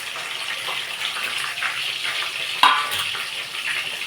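Cashews with nutmeg, mace, cardamom and cloves fry lightly in oil, giving a steady close sizzle with small crackles and one sharper pop partway through. No voices are heard.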